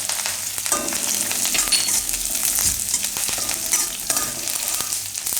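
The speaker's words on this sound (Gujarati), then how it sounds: "તલને થોડીક જ વાર ફેરવવાના" Sesame seeds stirred in hot oil with curry leaves and chillies for a Gujarati green chickpea chaat, giving a steady loud sizzle and crackle with scraping spoon strokes against the pan, and no talking.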